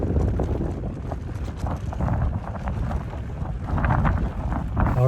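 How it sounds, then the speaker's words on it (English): Wind buffets a microphone outdoors in Kirkenes in the Arctic near the Russian border, a loud, continuous low rumble with gusty swells and no voices. "it's too windy"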